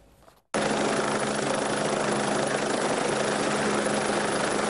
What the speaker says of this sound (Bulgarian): Днес в акцията се включи и хеликоптер.